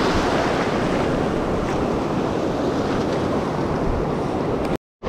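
Ocean surf rolls and breaks on a sandy beach with an incoming tide, a steady broadband wash with wind noise on the microphone, continuous and loud before cutting off abruptly near the end.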